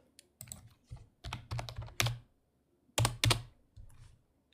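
Computer keyboard typing heard up close, with bursts of rapid clacking keystrokes separated by short pauses and a few heavier key hits, loud and alone with no voice.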